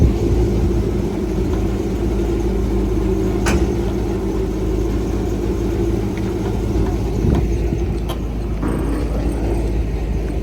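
An airboat engine warms up on its trailer during a test run, a steady loud mid-pitched drone holding close and continuous with no talk.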